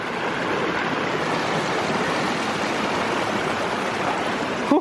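A swollen, high-running creek rushes past in a dense, continuous roar, close and loud with no letup and nobody speaking.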